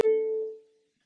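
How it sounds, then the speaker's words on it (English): A single plucked ukulele string note rings briefly and fades out within a second, clean and close. "So our first 4 notes of the 3rd measure will sound like this"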